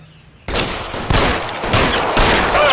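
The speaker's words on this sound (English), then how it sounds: "Suppressing fire." Suppressing gunfire in the game L.A. Noire, a loud sudden burst of rapid shots that keeps going in a dense volley with several heavier cracks.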